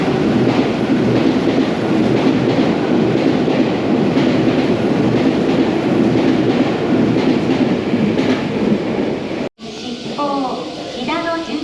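A Meitetsu electric train rolls into a station platform, a loud sustained rumble of wheels on rails filling the scene before a brief cut, then quieter station noise with a voice talking.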